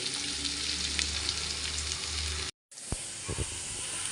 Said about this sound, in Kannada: ನಾವು ಸೇಮ್ ಹೇಗೆ ಬೆಂಡೆಕಾಯಿ ಹುರ್ಕೊತೀವೋ ಆ ಥರ ಹುರ್ಕೊಳ್ಳೋದಷ್ಟೇ ಇದು ಚೆನ್ನಾಗಿ ಹುರಿಬೇಕು